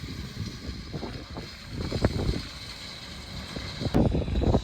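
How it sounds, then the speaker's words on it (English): A Fendt tractor pulling a straw rake across a dusty field, its engine a low steady rumble heard from a distance, with wind buffeting the microphone and mechanical rattles rising near the end. "There you go, the tractor's disappeared in the dust."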